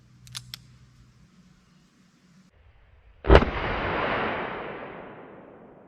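A single loud, close gunshot from a .32 H&R Magnum fired into ballistic gel, a sharp crack that rings out and decays over a couple of seconds, after a couple of small clicks and a quiet lead-in.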